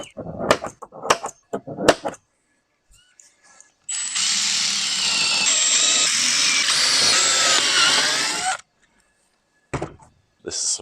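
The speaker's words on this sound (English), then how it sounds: "It's a matter of now drilling them out to the correct size." Power drill boring holes through a shelf for a 1971 Toyota Celica interior, one continuous loud whine lasting several seconds, framed by short clunks and handling noises before and after.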